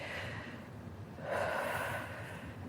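A single deep breath drawn and released during a strength workout between sets of Romanian deadlifts, soft and airy, swelling briefly over a faint steady background hum.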